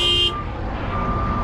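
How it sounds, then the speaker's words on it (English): A car horn honks briefly at the very start, a bright tonal blast that cuts off abruptly, over steady road and traffic noise heard from inside a moving car, with a large truck nearby. "plus somebody's honking a horn"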